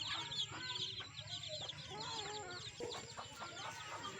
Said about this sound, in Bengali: এগুলো আমাদের মুরগি বাচ্চা দেখেন